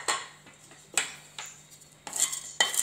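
A utensil clinks and scrapes against a pan in sharp, separate strikes, about six over a few seconds, as dry ginger, peppercorns, cloves and cardamom are dry-roasted. The sounds are close, with a faint low hum underneath.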